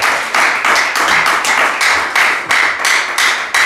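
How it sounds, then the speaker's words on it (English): A church congregation claps their hands together in loud, dense applause with rhythmic surges, filling the room with no voices over it. "Put your hands together for the Lord. That your clapping is so little."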